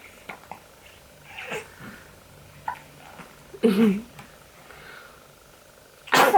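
A newborn baby's few short, sudden sneezes burst out, spaced apart, with quiet murmuring in between and a louder sneeze near the end.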